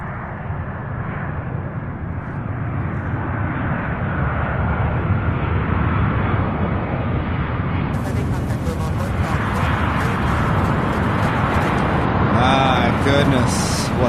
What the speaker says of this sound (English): The 767s do produce some awesome sound.